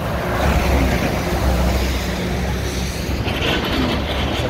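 Vehicles pass along a road in a loud, continuous roar of engines and tyres, swelling and fading as traffic goes by close at hand.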